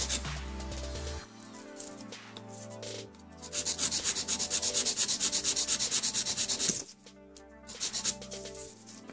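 A file scrapes across the top of a gel nail tip in quick, rhythmic back-and-forth strokes, close and soft, with pauses between bouts of filing.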